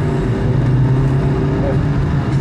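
A Honda Fit Hybrid's engine drones steadily from inside the cabin as the car accelerates, a constant low hum with no clear breaks.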